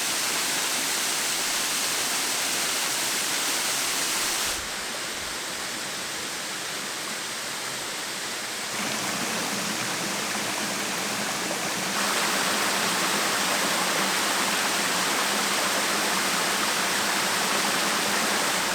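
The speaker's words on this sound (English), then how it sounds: "I can stand directly in front of this waterfall without getting wet" Pwll-y-Wrach waterfall roars steadily from close by, a dense continuous rush of falling water with no voices, its tone and level shifting in a few abrupt steps.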